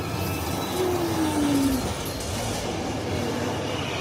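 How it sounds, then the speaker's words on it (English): A Universal Studios tour tram rolls along its route with a steady rumbling ride noise and a brief squealing whine from the wheels, heard from on board with no talking. "Well, the tram is moving"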